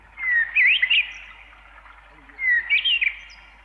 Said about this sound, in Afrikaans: Sien die voëls hul kastanjekleurige sterte skud